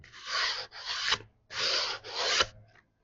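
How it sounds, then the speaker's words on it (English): Hand sandpaper rounding over the corner of a wooden bathroom cabinet board for a Pleasure Way Ontour camper van, four close, steady rasping strokes in two pairs with a brief pause between them. "So I want to take a hand sandpaper and just round this corner over as easy as we can"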